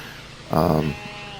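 A goat in the game Airport Renovator gives a single short, loud bleat, with quiet background sound on either side.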